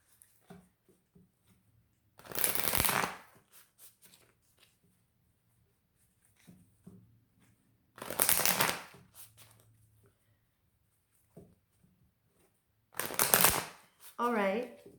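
Moonology oracle cards being shuffled in three separate crisp bursts with quiet pauses between, close by, followed by a short spoken remark.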